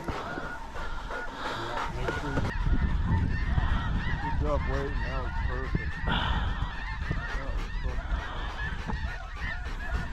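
Juvenile snow geese honk in a dense flock during a North Dakota hunt, many overlapping calls near and far, with a person speaking briefly underneath.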